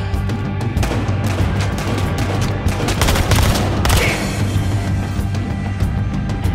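Dense, continuous gunfire from the shooter game Battlefield Hardline, with rapid overlapping shots and occasional heavier booms filling the whole stretch at close, loud range.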